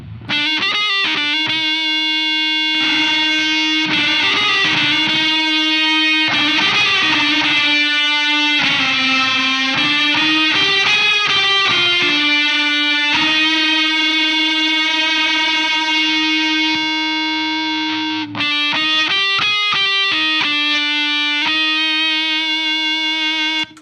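A distorted electric guitar plays sustained notes and short chopped phrases, its thick, warbling tone swirling with a chorus effect, loud and continuous.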